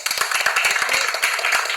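Audience clapping at a business achievers' event, close and crisp with distinct individual hand claps popping out of a busy, uneven patter of many hands.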